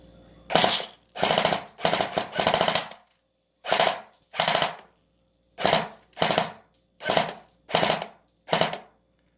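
A homemade electric airsoft machine gun modeled on the M1917 fires about a dozen short, loud rattling bursts with brief pauses between them, close to the microphone and with no talking over them.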